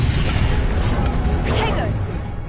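Harry Potter video game spells Stupefy and Incendio cast in quick succession, heard as a bright whooshing burst over a constant rumbling game background.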